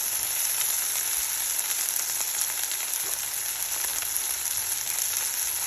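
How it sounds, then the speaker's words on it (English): Oxtails sizzling in a skillet with extra oil, a dense constant frying hiss at steady loudness throughout, close and without speech. "I'm going to transfer my oxtails to my skillet at this time"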